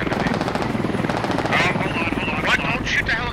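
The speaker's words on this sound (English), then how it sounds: "Don't shoot the helicopter." A steady helicopter rotor drone chops along continuously in the game SQUAD, on the Goose Bay map, with bursts of gunfire and game effects cutting in over it.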